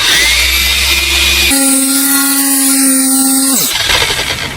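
A dual-action car polisher with a marked backing plate working on car paint: a loud, close motor whine that steps up sharply in pitch, holds steady, then winds down as the pad slows.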